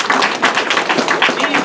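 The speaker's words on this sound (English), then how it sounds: "Give that a round of applause." Audience applause at a keynote address, loud close clapping with a steady, dense patter through the short burst.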